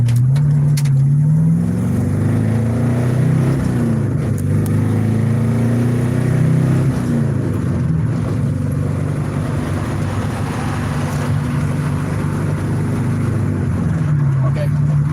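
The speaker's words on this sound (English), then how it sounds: "I want you guys to listen to the engine." A straight-piped 1969 Dodge Dart GTS engine drones loudly, revving up and down with rising and falling tones, while speech can be heard faintly underneath.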